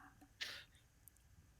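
A single sneeze bursts out once, short and sharp, over a quiet room hum with faint low background noise.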